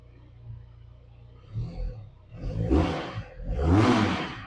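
A Bristol SRK 400 motorcycle's 400cc engine idles low, then is revved twice in quick bursts, each roar swelling louder before dropping back.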